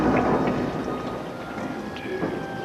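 Steady rain with a low rumble of thunder in the background, a continuous hiss with occasional drops and distant rolling booms through a short stormy scene.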